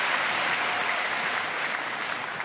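A fan club cheers on Timo Boll with steady, dense applause from a crowd at a World Table Tennis Championships match, continuous and fairly loud throughout with no talk.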